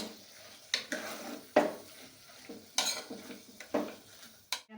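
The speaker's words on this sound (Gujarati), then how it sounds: "હવે આપણે આ ગાજર ખમણ હતું એ નાખી દઈશું, ગેસ આપણે ધીમો જ રાખવાનો।" Grated carrot going into farali sama khichdi on a low gas flame, with a few sharp spoon-on-pan scrapes and clinks standing out from a faint background hiss.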